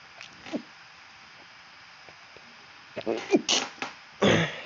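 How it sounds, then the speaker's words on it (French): A small human sneeze near the end, short and close, following quiet stretches and a few breathy vocal noises over a low background hum. "J'ai eu un petit éternuement."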